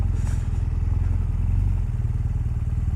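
A 2018 BMW R1200R motorcycle rolls slowly over slippery gravel, its steady low engine rumble close and continuous with faint crunching underneath.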